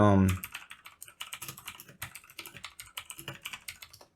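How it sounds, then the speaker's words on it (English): Rapid clicking of keys on a computer keyboard, a steady irregular patter of close, crisp taps after a brief voice at the start. "you probably hear clickety clack clack clack when I'm typing."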